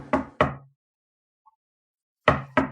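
Two pairs of sharp knocks on a door, a double rap near the start and another double rap about two seconds later, clear and close with silence in between.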